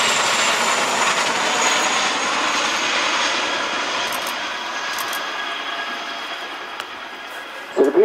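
An aeroplane flying display at the Air Tattoo air show, with a loud, sustained jet roar fading slowly as the aircraft passes, and a brief thump near the end.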